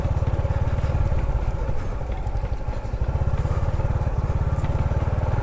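A motorcycle engine chugs close by with a steady, rapid low thump as the bike is moved onto a beach at Dancalan Beach Resort in Bulusan, Sorsogon. The idle wavers briefly midway, and faint voices can be heard in the background.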